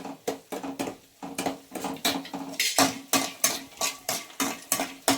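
Peanuts and dried red chillies roasting in a pan, with a spoon scraping and clinking against the metal in a steady, regular rhythm of sharp strokes, close and alone without talk.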